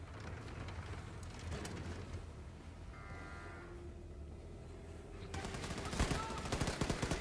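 Gunfire in Wolfenstein 2, played from a wheelchair: a dense, low-level rattle of shots runs under a steady game soundscape, then louder, sharper bursts crack out near the end.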